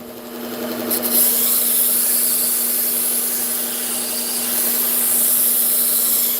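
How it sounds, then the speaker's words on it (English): A belt grinder fitted with a P120 belt sharpens badly worn, dull knives, giving a continuous loud abrasive hiss over a steady motor hum as the blade is held against the belt. "this is a lot of grinding for a P120 belt."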